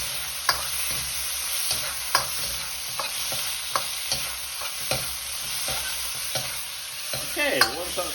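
Chicken pieces fry in hot oil in a pan, giving a steady, bright sizzle throughout with regular light taps and scrapes from stirring.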